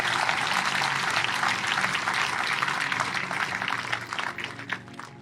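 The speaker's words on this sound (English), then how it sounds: "So I think that really deserves a round of applause." An audience gives a round of applause, a dense, steady wash of many hands clapping at moderate to faint level that thins slightly toward the end.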